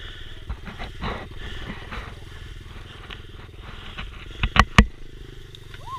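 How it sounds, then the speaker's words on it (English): A dirt bike engine idles and is revved with small throttle blips among trees, a low burbling putter with a few short sharp bursts near the end, moderately close. "you could sit on the bike and use a little bit of throttle"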